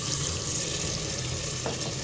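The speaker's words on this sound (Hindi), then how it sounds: "पानी ऐड कर दूंगी 1 प्याली" Water poured from a small cup into frying keema in a pan, making a steady, close rush of pouring water and sizzle that runs throughout.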